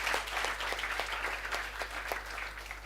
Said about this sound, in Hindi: एक बार जोरदार तालियां आप सब लोगों के लिए